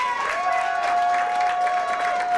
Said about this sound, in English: Y'all clapping Tiara.